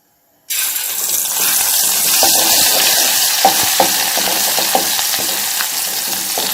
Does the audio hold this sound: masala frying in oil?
yes